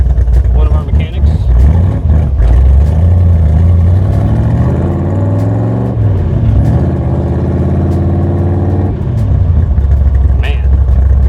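V8 engine of a 1965 Superformance Cobra with a Tremec 5-speed, recorded from inside while driving, loud and close, rumbling and revving up through the gears with a deep exhaust burble and clear rises and drops between shifts.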